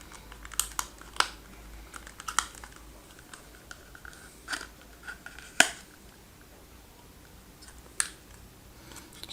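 Packaging for a Raspberry Pi 5 cooler is opened with scattered close clicks, snaps and crinkles of plastic and cardboard, arriving as sharp, irregular bursts over a quiet background.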